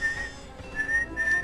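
A whistle sounds in short steady blasts, a brief one first and then two longer ones, fairly loud over a quiet background.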